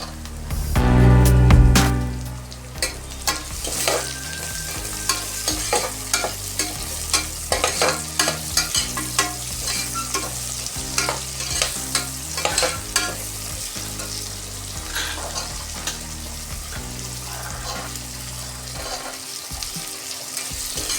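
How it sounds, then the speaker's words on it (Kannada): Vegetables for hotel-style veg pulao tossed into a hot pan and stirred, a loud initial sizzle followed by steady frying crackle and repeated scraping strokes of the spoon, close and without talk. "ಇವಾಗ ತರಕಾರಿ ಹಾಕ್ಕೊಂಬಿಡೋಣ."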